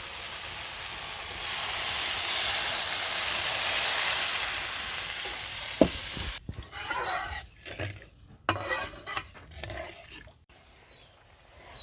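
Fish curry with cumin and garam masala paste comes to a boil in a village kitchen: a loud, steady bubbling hiss fills the first half, then gives way to uneven stirring, clinks and knocks.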